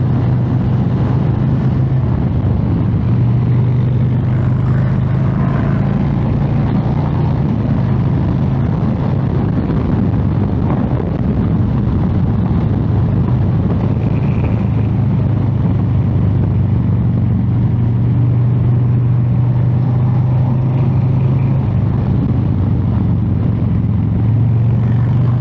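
Loud, continuous engine and wind roar from a 2023 Harley-Davidson Street Bob motorcycle being ridden fast, a steady droning hum with slight pitch shifts throughout and no voices.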